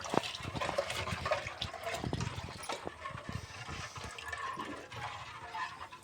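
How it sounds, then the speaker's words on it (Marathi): Thin, watery rice flour batter poured into a pot of hot water, a steady close liquid pouring and gurgling that continues for several seconds with no talk. "या पद्धतीने सर्व गरम पाण्यात ओतलंय."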